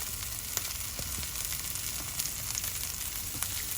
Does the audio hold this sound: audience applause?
no